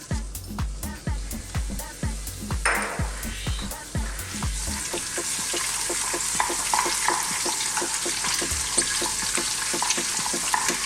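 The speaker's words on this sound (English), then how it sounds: "I'll add in our curry leaves" Fresh curry leaves hit hot oil for a beef biryani, starting with a run of sharp stirring clicks before a loud, steady crackling sizzle builds and holds close up.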